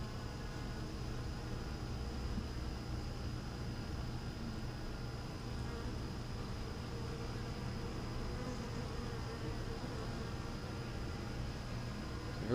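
Honey bees swarming over a hive frame give a steady, dense buzz, close and even, with no break for the whole stretch.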